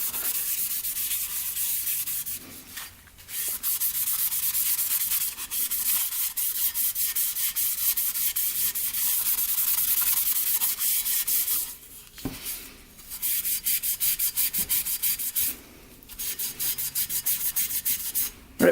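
Steady abrasive scrubbing of a Honda CRF250L dirt bike engine cylinder with WD-40 and a green abrasive pad, close and continuous with a few brief pauses.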